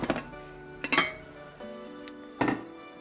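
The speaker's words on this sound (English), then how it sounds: "I'm just gonna transfer this now to the baking dish" Pasta being moved into a deep baking dish, with a few sharp clinks and scrapes of utensils against the dish, spaced apart and close by.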